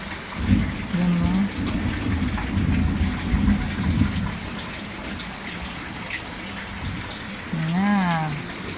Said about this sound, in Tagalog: Ganito sa amin, kunting ulan lang dito.